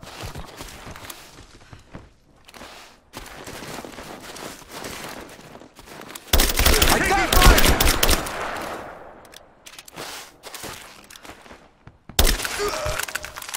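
Dense automatic gunfire and shots from Rise of the Tomb Raider gameplay, with bursts and bullet cracks coming in loud waves and the heaviest volleys around the middle and end.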